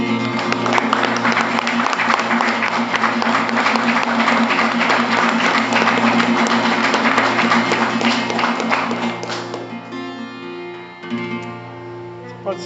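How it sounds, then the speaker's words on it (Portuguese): Congregation applause at a Christian youth worship service, a dense sustained clapping wash over steady music that thins out near the end, leaving instruments and scattered claps. "Você pode aplaudir a ele."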